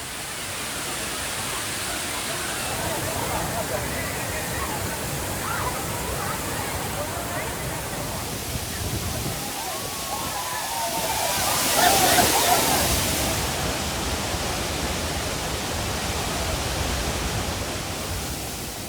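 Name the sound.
Thirparappu waterfall, flowing water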